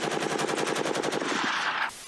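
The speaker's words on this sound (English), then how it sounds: "the gunner in the turret can use that coaxial machine gun to shoot bad guys with bullets" The coaxial machine gun on the Rhino tank in GTA V fires one rapid, loud, evenly paced burst that cuts off after about two seconds.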